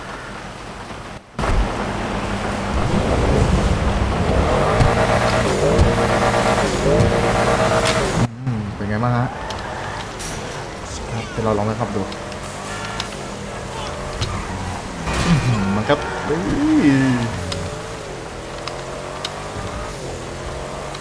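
Pfister Astron Custom SUV in GTA V Online, its engine and turbo revving through repeated throttle rises and releases in rainy weather, loud and close with rain hiss underneath, while someone talks over it.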